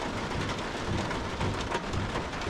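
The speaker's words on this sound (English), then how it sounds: "It's still raining." Steady rain drums on a tent pitched on a Lake District mountainside during a night storm, a dense, continuous patter close overhead with low rumbling gusts beneath it.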